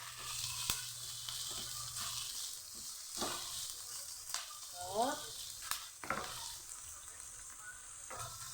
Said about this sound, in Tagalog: Habang niluluto natin yung karne